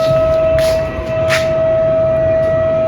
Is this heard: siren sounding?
yes